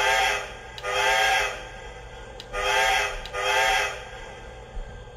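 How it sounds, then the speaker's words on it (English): A Lionel toy train set's electronic horn sounds in two long blasts separated by a short gap, each a bright harmonic tone with a faint bell ding underneath, loud and close in a quiet room. "Let's try the horn."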